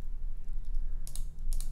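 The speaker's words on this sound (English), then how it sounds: "I can hit command on my keyboard to select the first one out of all of them" Keys click on a computer keyboard as a Webflow animation is built. Two quick clusters of presses, near and crisp, sit over a low steady hum.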